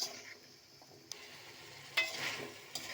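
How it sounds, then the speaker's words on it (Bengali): Spiced chicken cooking with jackfruit seeds in a pan, stirred through a soft, steady sizzle, with a few sharp utensil scrapes against the pan standing out at close range and no talking. "নাড়াচাড়া করতে করতে এটা আর একটু সিদ্ধ হয়ে যাবে, ভাজা ভাজা হয়ে যাবে।"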